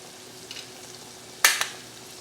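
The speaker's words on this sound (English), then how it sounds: "I'm just gonna keep them frying until they're, you know, nice and golden." Salmon croquettes fry quietly in oil, then a sharp burst of sizzling crackle flares up and fades.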